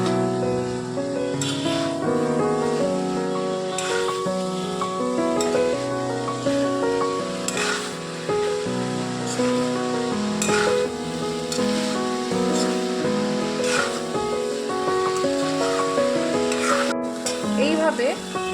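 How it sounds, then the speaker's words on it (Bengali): Mochar ghonto with pea lentil fritters being stirred in a pan, a soft continuous sizzle and occasional scraping that run under steady background music. "তারপর এটিকে আবারও ভালোভাবে নাড়াতে থাকবো।"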